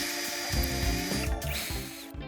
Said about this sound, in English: I used a step drill bit for these.